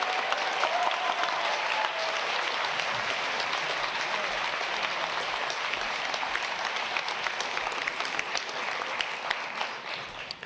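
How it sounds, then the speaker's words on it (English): Sustained, full audience applause at a medical residency graduation ceremony for an internal medicine resident graduate, a loud continuous wash of many clapping hands that stays even for about ten seconds. "Big round of applause"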